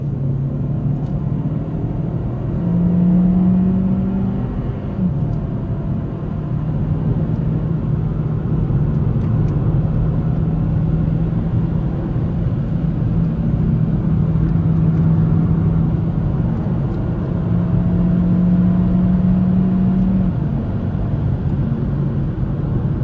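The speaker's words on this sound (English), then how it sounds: "We're gonna try and push it to as fast as I think it can go" A Kia XCeed 1.5 T-GDI with 160 hp pulls hard from inside the cabin, a steady loud engine drone and road rumble that swells in a few gentle surges as the revs climb.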